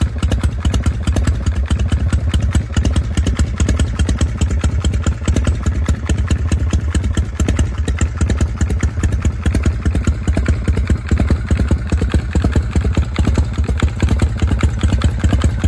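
Classic Harley-Davidson Shovelhead custom motorcycle idling close by, a loud, steady, lumpy thumping beat with a loping uneven rhythm throughout and no voices.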